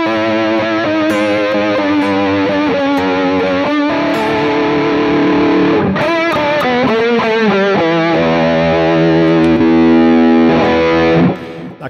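Distorted electric lead guitar through a GTRS guitar rig with a vibe effect, playing a sustained melodic line with bends and swirling modulation, loud and continuous before cutting off near the end.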